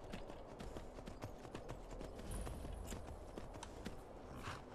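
Horse hooves clip-clop at a steady walking pace in Skyrim Special Edition, moderately loud and continuous over a busy game soundscape with no talking.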